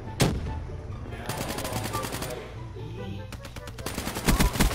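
Rapid automatic RK5 gunfire in Black Ops 3, a steady stream of loud close shots with a few sharp bursts, set against continuous game background noise.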